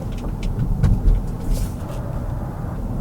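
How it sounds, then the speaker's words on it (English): A Polestar 3 electric SUV, heavy at about 5,000 pounds, drives through a series of bends with a steady low road and tyre rumble and faint wind noise heard from inside the cabin. "So let's take the Polestar 3 through a series of bends and see how it handles."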